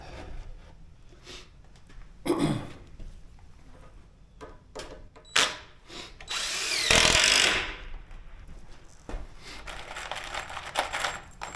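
A power drill drives screws into a homemade wire spool reel in short whirring bursts, one longer and louder run in the middle, with clicks and handling noise between.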